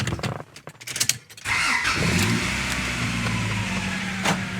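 Car engine cranking and catching after a K&N air filter install, starting with a brief whir then settling into a steady, close idle hum.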